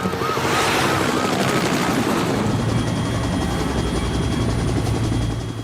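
A news helicopter in a Hindi 2D Shaktimaan cartoon, its loud continuous rotor chop and whining engine filling the whole stretch at close range, with no talking.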